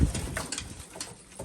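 Pigeons in a cage, newly arrived from travel, give soft low coos alongside a few light bird calls, faint and close, without talk.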